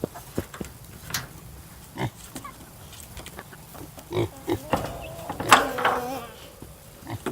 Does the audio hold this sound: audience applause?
no